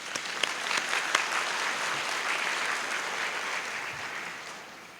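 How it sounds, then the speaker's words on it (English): A commencement audience gives a sustained round of applause, a dense wash of clapping with a few sharper claps early on, fading out over the last second. "Please join me in thanking them with a warm round of applause."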